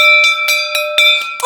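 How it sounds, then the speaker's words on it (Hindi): A loud bell rings continuously at a comedy-show wrestling ring, its steady metallic tone pulsing in quick, regular bursts. "ये जो घंटी हो गई है ना, ये पहलवानी में सबसे ज्यादा जरूरी होती है"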